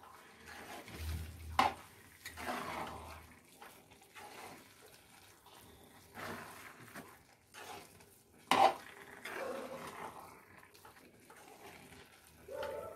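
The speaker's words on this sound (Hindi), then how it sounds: "अब इसको अच्छे से मिक्स करें।" Carrot halwa being stirred in a pan, with soft scraping and clinking of a spoon against metal and two sharper knocks, steady and close with no talk.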